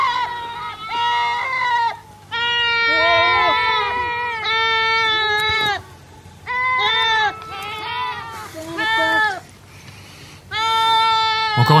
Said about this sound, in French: Ça fait un de ces bruits, les chèvres.